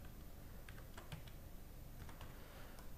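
A Wi-Fi password being typed on a computer keyboard while setting up an Epson L4150 printer, heard as a quiet, close patter of scattered key clicks in short bursts, with no talking.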